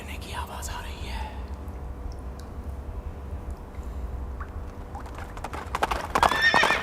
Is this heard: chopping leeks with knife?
no